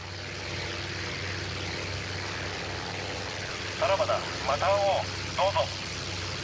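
A propeller aircraft engine drones steadily in the IL-2 Sturmovik flight game, an IJN plane idling near a Japanese carrier, a continuous low hum with a few brief tonal chirps over it late on.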